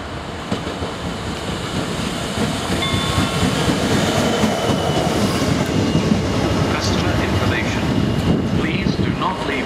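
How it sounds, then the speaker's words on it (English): A Colas Rail class 66 diesel locomotive runs light engine through Basingstoke station, its rumbling engine and clattering wheels building to a loud, steady pass close by on the platform. "The approaching train is not scheduled to stop at this station."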